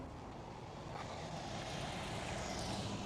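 A KLM Cityhopper airliner at Schiphol Airport, heard as a steady, distant jet engine roar that swells slightly over a few seconds, with no talking.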